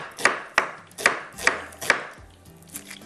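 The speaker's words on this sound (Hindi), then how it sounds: "प्याज को थोड़ा सा मैं इस तरह से चॉप करके डाली हूँ।" Five sharp knife chops through onion on a cutting board at a steady pace, followed by a couple of softer taps, close and clear.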